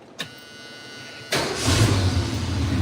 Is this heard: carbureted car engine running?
yes